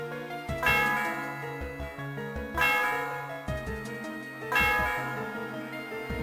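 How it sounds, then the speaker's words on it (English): The bell of the Celestial Tower in Pokémon White 2 tolls three times in slow succession, each strike a bright metallic clang that rings out and lingers with a long shimmering decay over a steady musical backdrop. "The sound of the bell reverberates through the area."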